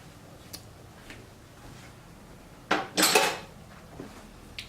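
A small spoon clinking against a pot or bowl while tasting a Korean beef mixture, a few faint ticks followed by a louder burst of close metal-on-dish clatter and a final light tap, no talk.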